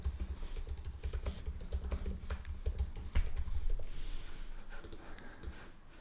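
Computer keyboard clicking in quick, irregular bursts as a headline is typed into a landing page design, close and clear with no talking, ending in a brief pause and a few final taps.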